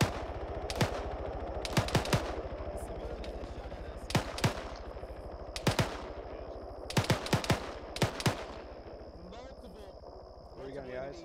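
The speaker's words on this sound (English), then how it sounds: "I heard a large caliber rifle report from the north-northwest" Rifle gunfire during a field training exercise, including large-caliber reports: single shots and quick doubles and triples crack out at irregular intervals, loud and sharp, with voices talking in between.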